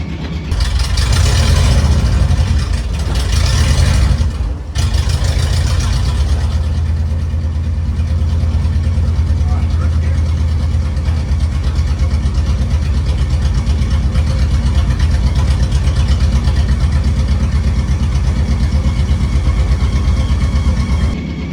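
A VW bus fitted with a Subaru engine drives along in first gear, its engine droning steadily and loudly with a brief rev and gap near the start, heavy low rumble throughout, no voices.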